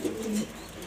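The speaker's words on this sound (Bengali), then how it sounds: "এই যে দুইটা কবুতর" A pair of Afsan grizzle pigeons coo softly at close range, a short, low, throaty murmur with no talk over it.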